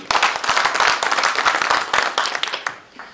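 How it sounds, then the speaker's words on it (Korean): A crowd applauds at an inauguration ceremony for a regional residents' autonomy council president, a dense burst of clapping from near the start that thins out and fades over about three seconds. "다음 번 박수 한번 보내줬으면 고맙겠습니다."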